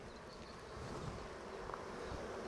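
Honeybees massed on the top frames of a hive buzz in a steady, low, continuous drone at close range, with a slight swell partway through and no talking.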